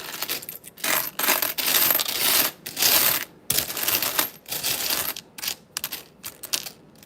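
Pennies being sorted by hand while searching for wheat pennies, a near-continuous metallic jingle and clatter of coins sliding and clinking together in bursts, with brief pauses between handfuls.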